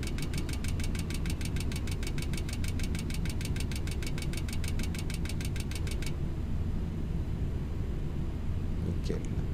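Boeing 737 jet engines in Flight Simulator X spooling down as the throttle is pulled back on descent, a steady loud drone with a rapid rhythmic pulsing that cuts out partway through, leaving an even engine roar.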